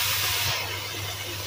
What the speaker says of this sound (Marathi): थोडा पाण्याचा हापका द्यायचा